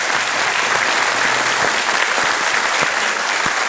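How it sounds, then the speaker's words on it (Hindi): Studio audience applause on the Kaun Banega Crorepati game show set, dense and loud, sustained evenly throughout without a break. "तालियों के साथ हम आपका अभिनंदन करते हैं।"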